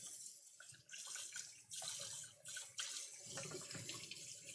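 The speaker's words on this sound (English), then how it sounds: "I'm gonna give my whisk a rinse too" Kitchen tap running steadily as a whisk is rinsed in the sink, a close, continuous splashing rush of water with small shifts as the whisk moves through the stream.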